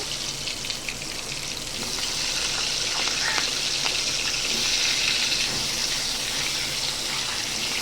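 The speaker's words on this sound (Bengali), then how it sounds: "এই যে কেটে রাখা আলুগুলোকে আমি আগে একটু ভেজে নেব" Potatoes, cut in advance, frying in a small amount of oil for a hilsa fish curry with green banana, a steady broadband sizzle that swells louder after the first couple of seconds and holds continuously.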